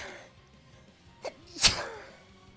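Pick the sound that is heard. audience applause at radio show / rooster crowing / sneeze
sneeze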